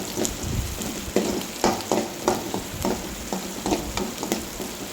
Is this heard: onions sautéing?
yes